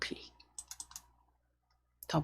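Two quick pairs of sharp computer mouse clicks, a double-click, sounding close and crisp in a quiet room, with a voice speaking briefly before and after.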